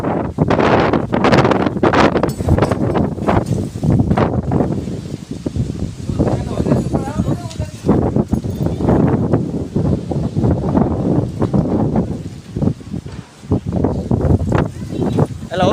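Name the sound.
strong wind during a storm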